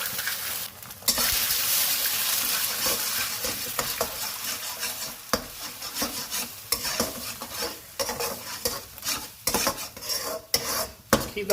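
An egg is stirred in a hot frying pan for an egg fried rice stir fry, with steady sizzling and repeated scraping and clinking of a utensil against the pan, growing choppier toward the end.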